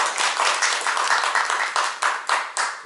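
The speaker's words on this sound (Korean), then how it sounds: "Please welcome him with a big round of applause." An audience at a firefighting investigation seminar applauds to welcome a professor, many hands clapping loudly and close, settling into a few rhythmic, separated claps toward the end.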